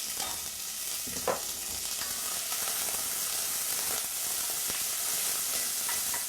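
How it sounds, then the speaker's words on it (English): Vegetables sauté in hot oil with a constant bright hiss and sizzle, broken by a few soft stirring clicks, steady and fairly quiet throughout, for a simple pot of beans. "now that the oil's nice and hot, we're going to add our vegetables"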